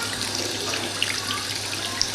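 Hot water runs from a tap in a home whose central heating system has just been power flushed, giving a steady close hiss with a few small splashes.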